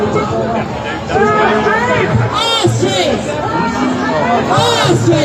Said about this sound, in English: So let's make some noise.